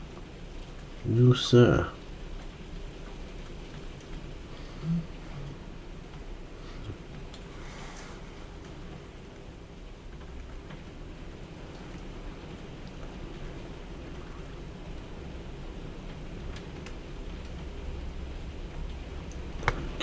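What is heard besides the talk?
heavy rain hammering down outside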